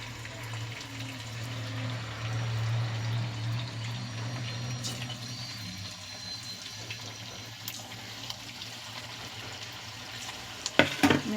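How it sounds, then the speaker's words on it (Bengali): Chicken pakoras go into hot oil and fry with a steady, even sizzle that holds throughout, nearby and moderately loud, with a few sharp clinks near the end. "তা আমি ছাড়ছি, দেখুন"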